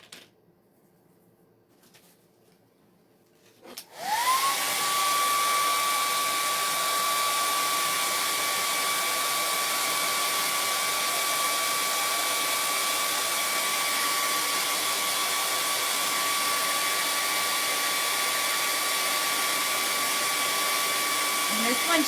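A hair dryer blasts chalk paint dry on a Christmas craft piece, switching on after a few quiet seconds and then roaring loud and steady, close by, with a constant whine.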